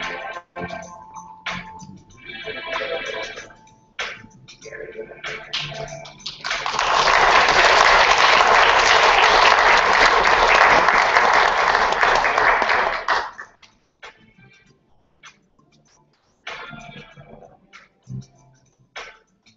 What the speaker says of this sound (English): Let them know you gave them a big round of applause.